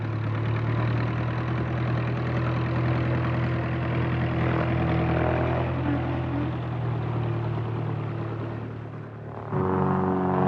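A trainer airplane's piston engine drones steadily at runway hold before takeoff, loud and continuous, with the pitch shifting slightly near the end as power changes.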